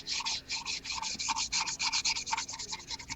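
Wood being sanded by hand, quick rhythmic rubbing strokes, close and fairly quiet, with no voices.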